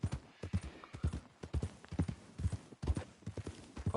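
Rhythmic clip-clop of a horse's hooves trotting in the Red Dead Redemption 2 video game, a steady even beat of heavy footfalls, close and clear.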